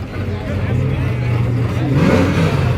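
A street racing car called Ruthless revs its engine at a cheap street small tire race final, the engine note rising and falling loudly under chatter from the nearby crowd.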